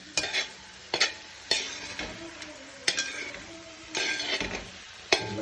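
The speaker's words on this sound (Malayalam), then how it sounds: "ഇടയ്ക്കൊന്ന് ഇളക്കി കൊടുക്കണം." Chicken curry stirred in a pan on the stove, with repeated sharp spoon knocks and scrapes against the metal roughly every second over a low steady sizzle, close by and with no talk.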